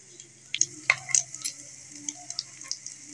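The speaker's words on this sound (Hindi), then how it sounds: "अब इसे मीडियम आंच पर जो है हम इसको फ्राई कर लेंगे, लाइट सा ब्राउन करके फिर हम इसे उतार लेंगे।" Egg slices sizzle in a pan over medium heat, a steady soft crackle with several sharp clicks and scrapes of stirring scattered across it, close and moderately quiet.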